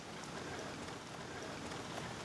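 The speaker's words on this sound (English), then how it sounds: "we've had rain all morning" Steady rain falls on a rainy-season morning around a home garden, a constant broadband hiss of drops at moderate level with no talk over it.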